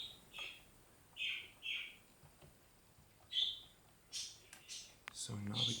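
Pet birds chirp faintly in a quiet room, giving a series of short high tweets at irregular intervals, and a voice begins speaking at the very end.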